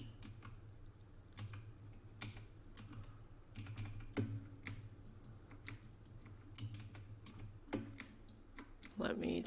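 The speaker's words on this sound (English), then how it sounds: "I'm either hitting the wrong key." Computer keyboard typing, with scattered key clicks tapping irregularly over a steady low hum, fairly close and moderate in level; a person talks intermittently around the keystrokes.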